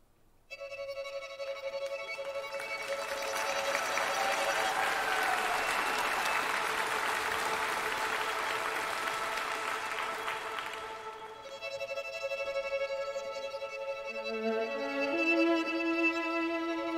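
Concert audience at a Trøndelag artist gala breaking into loud sustained applause while instruments hold a chord, then the clapping fades and the music carries on alone with a rising melody.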